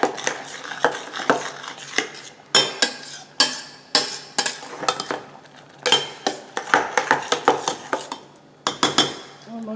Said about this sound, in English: Now let's give it a good stir.